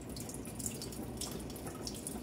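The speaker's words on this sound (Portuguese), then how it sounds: "Vamos escorrendo assim devagarinho agora a água do arroz" Water drains slowly out of a pot of rinsed rice, tipped from side to side: a continuous soft splashing and trickling, close but quiet.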